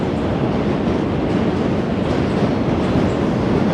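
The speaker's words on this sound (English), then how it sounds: "because you can see all these trains are start to pass." New York City subway trains passing on a bridge between Brooklyn and Manhattan, a loud continuous rumbling roar with clattering wheels and faint metallic squeal, steady and close throughout.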